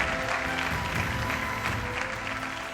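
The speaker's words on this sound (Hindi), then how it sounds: "एक बार उनके लिए सब लोग जोरदार तालियां बजाएं." A studio audience at a televised singing competition bursts into steady, dense clapping that fills the hall for a few seconds, with no one speaking over it.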